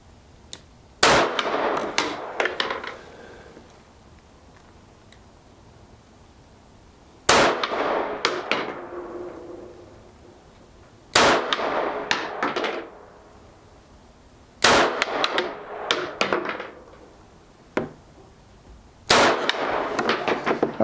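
A Staccato P 2011 pistol fires at a target 10 yards away: several loud, sharp shots in quick clusters separated by pauses, each report ringing briefly with a metallic edge.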